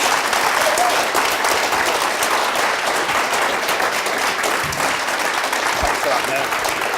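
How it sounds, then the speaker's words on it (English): A live audience at a motivational talk breaks into a round of applause, dense continuous clapping that holds steady throughout with faint voices mixed in. "Give him a round of applause."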